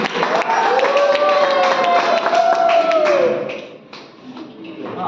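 A group of children at a kids' camp class claps for a boy, producing dense, steady applause close by. A sustained voice rises over it, and the clapping fades near the end.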